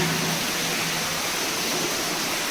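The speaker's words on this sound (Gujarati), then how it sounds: "બે જગ્યાએથી ગરમ લાઈન ગરમ લાઈનનું પાણી આવે છે" Water gushes out of a newly drilled borewell on a farm near Rajkot, a loud, close, continuous rushing roar with no voices.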